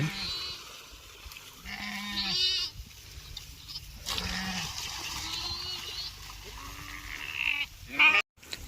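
Sheep on a farm bleat repeatedly near a watering spot, several wavering calls overlapping in quick succession against a low background hum.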